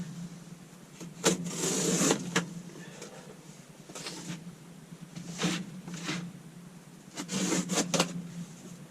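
Cardboard from a welding cart box being cut up, with bursts of scraping and tearing in uneven strokes, moderately close and without speech.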